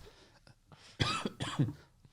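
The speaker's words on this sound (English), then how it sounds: "Sorry, I've got a cough" Two or three harsh, close human coughs in quick succession after a quiet breath.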